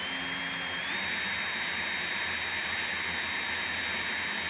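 A power drill spinning Nissan Rogue transmission gears whirs steadily with a high mechanical whine, its pitch shifting slightly early on before holding constant.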